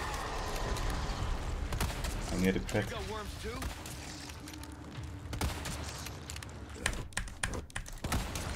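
Cheap computer keyboard clacking during a Resident Evil 4 Remake session, irregular close key taps and bursts under a man's speech and game sounds.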